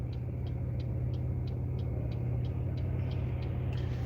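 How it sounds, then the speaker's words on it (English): Regular turn-signal blinker ticks from inside a car, about ten evenly spaced clicks repeating steadily over a constant low engine and road rumble. "You might be able to hear the blinker."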